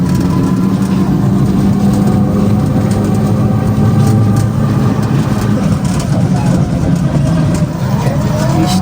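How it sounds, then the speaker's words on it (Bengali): A train running alongside in light rain, heard as a loud continuous low rumble and drone close by, steady throughout with faint mechanical tones over it. "ট্রেন এই যে এখনও যাচ্ছে, এই যে ট্রেন।"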